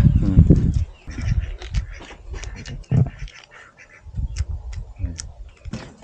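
A hilyawan bird calls in short repeated bursts at a rural campsite overlooking the Sierra Madre mountains, with someone talking close by between and over the calls.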